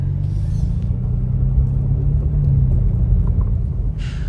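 A car's engine rumbles steadily and close as it drives up the gravel-free farm driveway toward a shooting complex, holding a low, even drone throughout with no voices.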